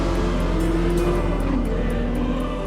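A car in the Forza Motorsport racing game idles and drones at low speed, a steady engine hum with faint rhythmic ticking, continuous and fairly loud with no talking.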